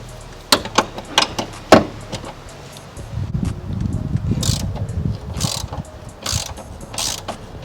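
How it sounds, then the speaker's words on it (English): A bolt worked loose with an E14 socket ratchet on a Vauxhall Corsa during a ram air intake install, a few sharp clicks followed by rapid ratcheting bursts, close and loud. "you're going to want to use an E14 to unscrew that bolt"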